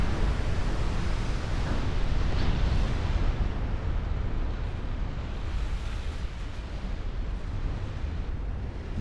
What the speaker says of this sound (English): Rooks has already taken 3 torpedoes.